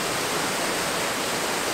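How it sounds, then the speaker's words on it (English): A waterfall pours steadily, its dense, even rushing roar filling the scene without pause and with no voices. "You can see the water flowing through here into the foreground too."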